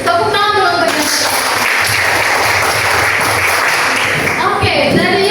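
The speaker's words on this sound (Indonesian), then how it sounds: "Tepuk tangan dulu untuk yang betul." A classroom of students bursts into steady applause that stays loud and dense for several seconds, with a teacher's voice speaking briefly over the clapping near the end.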